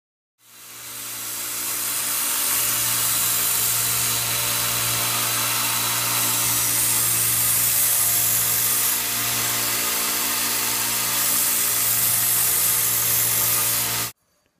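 A belt grinder runs continuously while a knife is sharpened against the abrasive belt, producing a loud, steady whirring hiss that starts abruptly and cuts off at the end.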